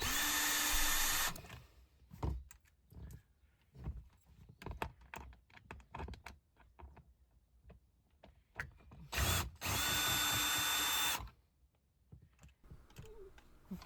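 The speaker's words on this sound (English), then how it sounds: "So I'm slowly taking off each of these screws" A power drill spins screws out of a Toyota Sequoia/Tundra cup holder insert, with loud whirring bursts at the start and near the end, and light clicks and plastic rattles of the screws and panel in between.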